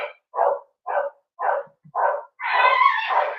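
Dog barking close by, five short evenly spaced barks followed by a longer drawn-out bark or howl, loud and alone with no talking.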